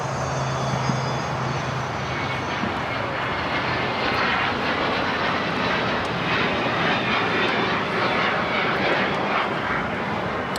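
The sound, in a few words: Emirates Airbus A380 jet taking off at LAX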